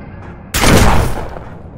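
A single loud blast in the A-Tech Cybernetic VR shooter game bursts out suddenly after a quiet moment, booming broadly and then decaying over about a second.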